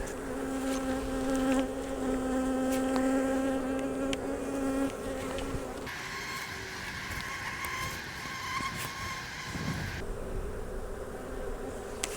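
A dense, steady drone of many honeybees buzzing around a hive nearby, with a constant hum that shifts in pitch partway through.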